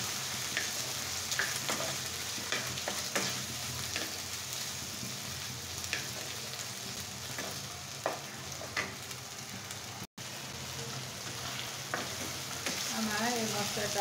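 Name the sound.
frying onion, ginger and garlic paste in a pan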